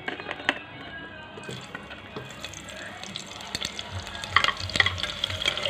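Chopped onions hit hot oil in a pan that was used earlier for frying potatoes and parwal. They sizzle and crackle softly and keep it up, with louder stirring clatters building toward the end.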